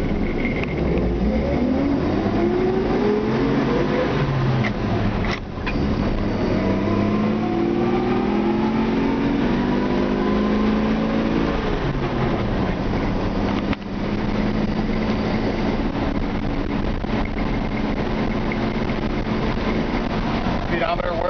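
A 1954 Chevy 3100 pickup engine cranks and fires, then runs and revs steadily, its pitch rising and falling through repeated throttle changes, heard up close with a muffled, low-fidelity tone.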